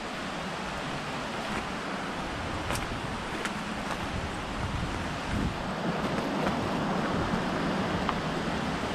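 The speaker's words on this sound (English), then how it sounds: "Looks like we got some water coming over the trail again up here." River water rushes over a forest trail along the Upper Siouxon in Gifford Pinchot National Forest, a continuous broad hiss of flowing water partly roughened by wind buffeting the microphone.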